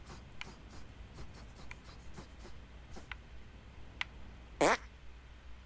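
A cartoon fart bursts out in South Park: The Stick of Truth, one loud broadband blast about a second long standing clear above a low game backdrop with faint scattered clicks.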